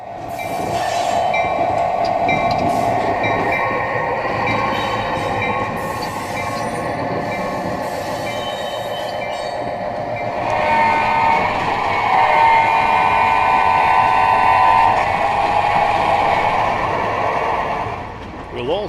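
An EMD GP9 diesel locomotive rumbles and hums nearby while switching a freight yard, as rail cars roll and wheels squeal, with someone talking over the noise.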